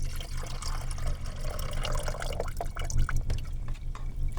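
Liquid poured into a cup, an uneven stream of trickling and splashing with small drips, close and steady over a few seconds with no talking.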